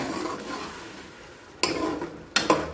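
Tomato and garlic sizzle with fried onion in a pan, a soft steady fry broken by two sharp clanks of a utensil stirring against the pan.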